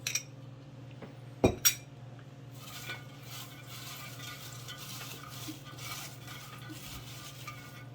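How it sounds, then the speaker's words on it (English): Bare hands mix salt into shredded cabbage in a crock for sauerkraut, giving a soft, continuous rustling and crunching close by. A couple of sharp clinks come early, and a steady low hum runs underneath. "use your hands to put the cabbage in the crock and to mix"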